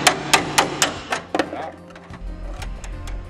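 Leftover spot welds are hammered off a car body panel with a chisel: a quick series of sharp, close metallic strikes at an uneven pace, followed by a low rumbling hum.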